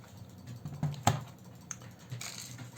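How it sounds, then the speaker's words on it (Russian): Keyboard latches on an Asus Eee PC 1015BX laptop being unclipped: a few small, close plastic clicks, with one sharper snap near the middle, all quiet and without talk. "Отщелкиваем защелки вот с этой стороны, также и с той стороны."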